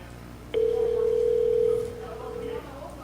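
A phone call placed to a line of all eights rings in a single long, steady tone, loud and clear, then gives way to a fainter warbling tone. Quiet background noise sits underneath.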